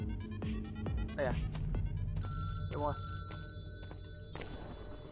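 A telephone rings in the video game Crying is Not Enough, with repeated ringing bursts that grow clearer amid game ambience while a person speaks briefly.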